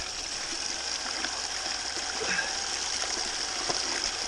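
Water rushes steadily through a gold sluice box fed with material for processing, a continuous broadband wash with small splashes, fairly close and unbroken by talk.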